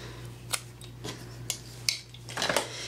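Scissors snip through Whisper White cotton ribbon in a few close, crisp metallic cuts with brief slicing rasps, the last a quicker double snip, over a faint steady hum and no speech.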